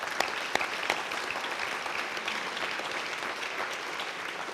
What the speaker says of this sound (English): Another round of applause, please, for Kristen Greenaway.